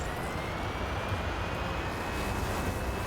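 A steady car engine drone with a high whine holds throughout in the video game Hot Wheels Unleashed 2: Turbocharged, constant and fairly loud, with no talking.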